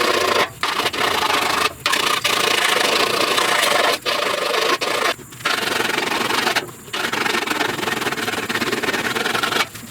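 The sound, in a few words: filing 69 C10 upper cowl panel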